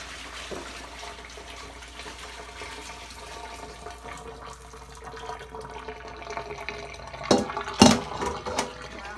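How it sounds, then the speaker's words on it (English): Pasta water poured out into a colander, a rising rush of draining water that swells to a loud splashing gush near the end, heard close with faint background noise. "We're going to drain it into my colander."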